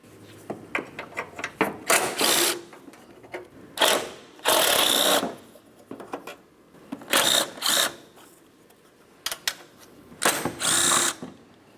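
Power tool bursts loosening 10mm bolts on the cowl of a 2009-2010 Pontiac Vibe, several short whirring runs of a driver separated by pauses and small clicks, close and fairly loud with no talking.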